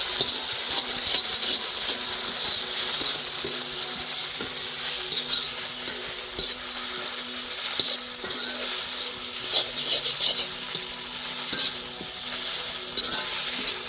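Broad beans frying in a pan are stirred, giving a continuous crackling sizzle broken by repeated scraping strokes of the spoon, close and fairly loud throughout.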